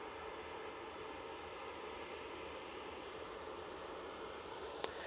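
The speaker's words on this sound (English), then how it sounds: "Next in, we have the Aer Lingus A330-300. This one's coming in from Orlando." An Aer Lingus A330-300 airliner arriving at Manchester Airport from Orlando, a faint, steady distant jet roar with a brief sharp click near the end.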